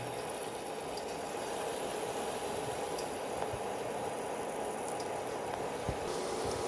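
Palm-fruit batter fritters frying in hot oil give a steady, even bubbling hiss that holds at the same level throughout, with only a faint tick or two over the constant sizzle.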